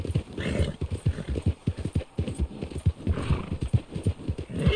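Galloping horse hoofbeats in Red Dead Redemption 2, a steady rapid clip-clop with a brief neigh, close and loud throughout with no talk over it.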